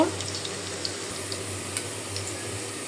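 Potatoes and eggplant frying in a wok give a steady, even sizzle with a few faint pops and clicks, close and continuous throughout.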